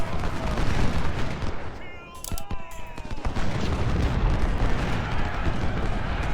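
Artillery cannon fire in the Civil War battle game Ultimate General: Civil War, with a cluster of sharp, loud blasts near the middle over a dense battlefield roar.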